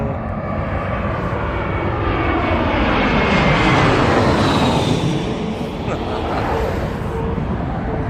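A Spirit Airlines jet passes overhead with a loud, sustained engine roar that swells and holds across several seconds, while voices talk nearby outdoors at night in Las Vegas.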